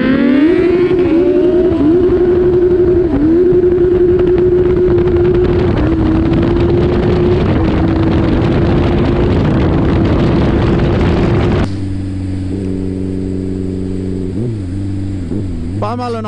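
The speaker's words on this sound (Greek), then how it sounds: "πώς σπινιάριζε το μηχανάκι." A Suzuki GSX-R Hayabusa turbo motorcycle in Greece revs hard in a run of repeated rising and falling surges, loud and close, then settles into a lower, steadier tone with a few short throttle blips.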